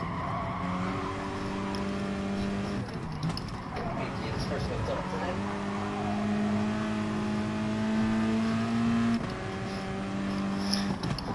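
A race car engine in the GT Sport racing game revs steadily with harmonic tones rising and falling, tyres squealing at times, while someone talks over it.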